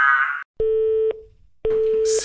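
A toy Spinosaurus sounding like a telephone call gives two steady electronic tones separated by a short gap. A brief burst of other sound comes before them, and nobody speaks.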